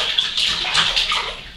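A two-and-a-half-month-old baby splashes water in a bathtub, with close, soft repeated splashes and trickles in an irregular rhythm, no talking.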